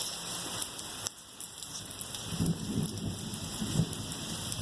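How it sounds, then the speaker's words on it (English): Thunderstorm with steady heavy rain hissing on surfaces and low rumbles of thunder rising and fading, continuous and close, with no voices. "So, guys, the thunderlight storm just hit."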